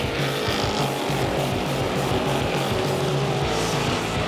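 Race cars roar around an oval track under the lights at a Friday night event, several engines buzzing together in a loud continuous drone with rhythmic pulsing as the pack runs into turns three and four.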